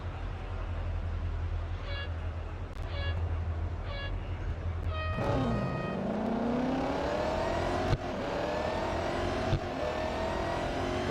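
A Cadillac CT5-V Blackwing in the Real Racing 3 mobile racing game, starting with a series of beeping countdown tones over an idling engine, then a loud rising rev as the car launches and keeps accelerating.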